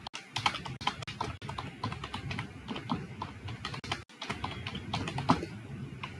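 Keys clatter on a computer keyboard while code is entered in a Python editor, ending with Shift+Enter pressed; quick, close clicks come in uneven runs with brief pauses, fairly quiet, and no one speaks.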